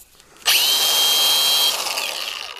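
Milwaukee cordless angle grinder switching on with a sharp onset and running at a loud, steady high whine for over a second before starting to wind down, with no talk.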